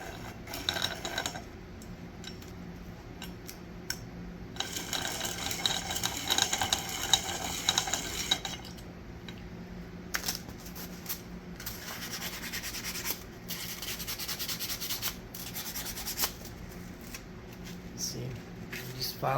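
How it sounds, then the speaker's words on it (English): Hand filing of Icon forged piston parts for a Ford 428 engine build, close rasping strokes in repeated bursts with pauses between. "I'm going to file a little more of it."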